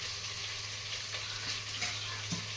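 Chili powder goes into vegetables frying in oil, and a soft, continuous sizzle carries on with a few faint ticks and scrapes.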